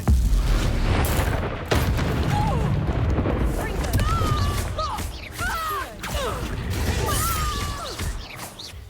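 Confringo blasting spell going off in the video game Hogwarts Legacy, a loud booming explosion with crashing debris and rumbling, followed by continued clatter and tonal game effects, with speech mixed in.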